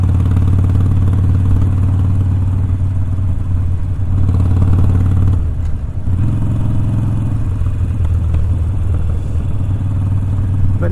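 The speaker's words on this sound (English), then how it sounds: "you can hear them drag pipes backfiring" Motorcycle with aftermarket drag pipes in place of the stock exhaust, rumbling loud and close throughout with popping backfires, briefly dipping near the middle before resuming its steady throb.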